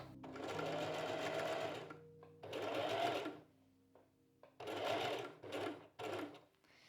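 A sewing machine runs in several bursts, stitching a sleeve with satin binding about 4 mm from the fabric edge, loud close whirring broken by short pauses, with no talk.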